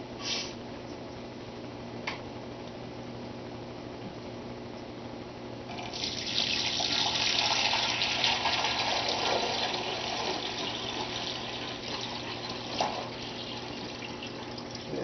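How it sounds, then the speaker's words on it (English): Water pours into a reef tank sump chamber from about six seconds on, a broad rushing fill that swells and holds, following a quieter stretch with a few small knocks over a steady low hum. "So go ahead and add some water in here."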